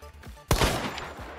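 Gunfire in the video game Hunt: Showdown: one loud, close shot or short burst that rings on and decays across the rest of the moment, with no talk over it.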